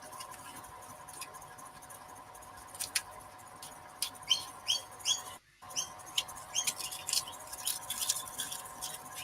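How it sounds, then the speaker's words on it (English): Small birds chirp in the evening near a woodworking space, with rapid high tweets clustering in busy bursts, faint and somewhat distant over a low hum, no talk. "Bloody birds, go to sleep."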